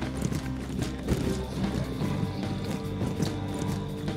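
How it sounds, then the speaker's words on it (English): Hooves clatter in a steady galloping rhythm at a Halloween jack-o'-lantern display, moderately loud, layered with other busy noise and no clear speech. "complete with galloping hooves and horse neighing and maniacal laughter"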